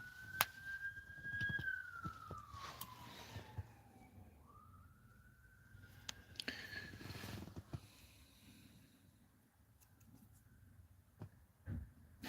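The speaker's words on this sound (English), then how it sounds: "Just hear the police sirens going." A police siren wails outside, rising and falling in a long sweeping tone at moderate distance, with faint background clatter and no talking.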